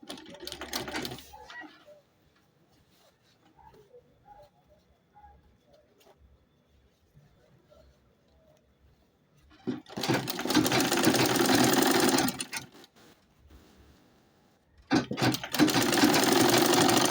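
A domestic sewing machine top-stitching the folded-in opening of a cushion cover, running in two steady whirring bursts separated by a quiet pause, with soft pigeon-like cooing faintly in the background.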